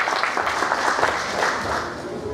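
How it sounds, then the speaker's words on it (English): Applause at a graduation ceremony, a crowd clapping steadily and fairly near for a couple of seconds, with voices mixed in. "So let us clap for him and congratulate him."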